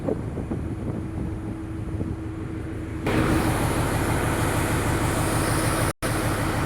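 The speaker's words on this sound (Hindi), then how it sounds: "नोय जहाज रे इंजन मिना" A ship's engine, aboard a river ferry, runs with a continuous low rumbling drone under heavy wind buffeting; it grows louder partway through and cuts out for a moment near the end.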